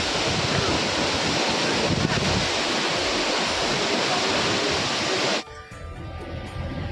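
Water rushing and spraying near Pelling, likely from a waterfall, roars as a loud, steady broadband wash up close, then drops away sharply near the end to a quieter background.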